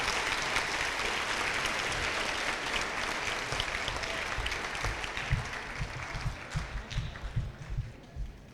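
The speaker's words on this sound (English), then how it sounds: "Please give them a round of applause." An audience at a 7th grade school awards presentation claps steadily for several seconds, a dense, even patter of many hands that thins into scattered claps at the end.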